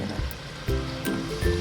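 Water poured into a pan of chicken roast korma masala gravy, a steady splashing, gushing pour close by with a few brief surges, no talking.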